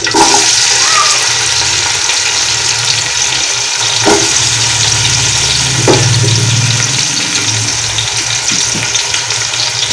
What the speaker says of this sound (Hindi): और अब डालूंगी इसमें ये मैं प्याज